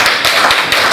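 An audience claps hands in a school classroom session, a dense, loud, close wash of overlapping claps with a few stronger pulses.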